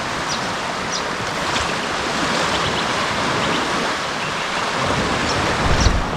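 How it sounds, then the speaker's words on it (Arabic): Sea waves washing onto a beach at high tide on Moreton Island, a steady broadband surf roar with gentle swells and some wind noise, no voices. "صوت الموج، صوت البحر"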